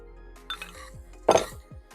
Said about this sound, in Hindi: इसको अच्छे तरीके से मिक्स कर देना है आपने